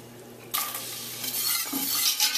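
Garlic is dropped into melted butter for a roux and starts to sizzle, a sudden bright frying hiss that jumps up and holds steady, with a faint stir or scrape near the end.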